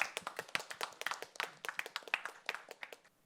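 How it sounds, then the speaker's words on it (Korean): Sparse clapping opens a youth presentation contest, a few distinct hand claps in a loose, uneven rhythm, fairly faint and tapering off after about three seconds. "큰 박수로 시작하겠습니다"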